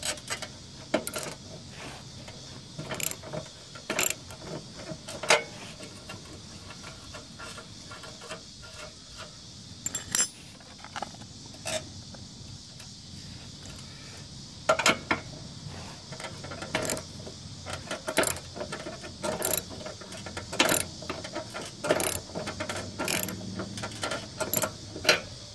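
A wrench tightens a bolt on a John Deere mower deck, making scattered sharp metallic clicks and clanks, some bunched in quick runs, over quiet background.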